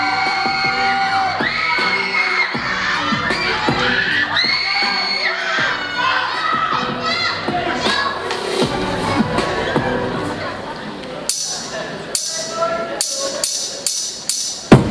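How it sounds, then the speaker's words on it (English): An audience at a Luzon hip hop dance semi-final cheers, whoops and shouts for a dance team, a loud steady crowd roar under booming music with sharp hits toward the end. "applause for this team, ladies and gentlemen"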